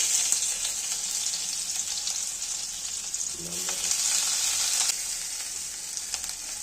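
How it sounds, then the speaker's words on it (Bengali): Spices frying in hot oil for a homemade momo filling give a steady, loud, close sizzle that hisses without pause, with no talking. "তেল দিলাম, একে একে মশলাগুলো দিয়ে দিলাম।"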